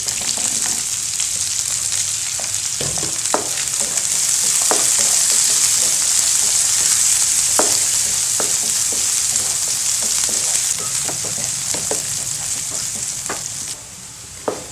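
Dried red chili, curry leaves, onion and garlic frying in hot oil for a ginger curry, a steady loud close sizzle with occasional stirring scrapes and no voices.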